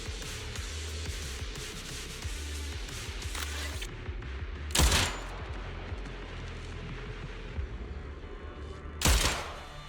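Gunfire in Zenless Zone Zero, with busy clattering game combat and two sharp, loud shot bursts standing out near the middle and end over a constant background mix.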